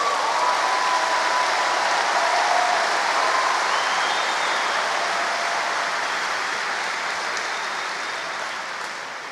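Sustained, dense audience applause at a church conference, a steady wash of many hands clapping at even loudness that tapers slightly toward the end, with no talking.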